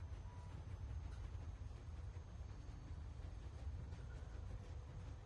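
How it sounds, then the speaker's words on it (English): A train runs steadily in The Walking Dead video game, a faint continuous low rumble with rolling rail noise and no voices. "You need to stop the train."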